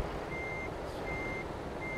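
In Euro Truck Simulator 2, a truck hauling B-train double trailers reverses while a steady high reversing beep repeats over a low engine rumble, with no talk.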